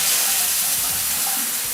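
Air trapped in the cold water line of a shower with an instantaneous water heater sputters out, a steady hiss with irregular bursts and gurgles, close and fairly loud, with no talking.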